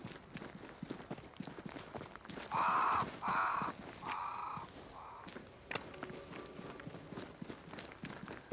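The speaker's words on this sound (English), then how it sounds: "Crows. They flock to that great tree up there." Crows caw in Banishers: Ghosts of New Eden, four loud harsh calls in quick succession over steady footsteps on the ground.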